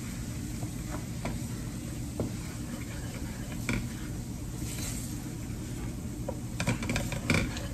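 Flour cooking in grease in a pan for mushroom gravy, a steady, close, soft sizzle with occasional light scrapes and clicks of a utensil against the pan.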